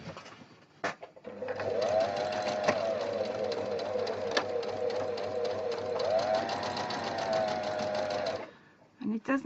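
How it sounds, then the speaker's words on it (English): Sewing machine stitching a seam in a felt Christmas tree decoration, a steady fast mechanical whirr running for several seconds with a short pause, close and moderately loud. "I'm going to go in again on the other side, a quarter of an inch, and I'm going to sew that in"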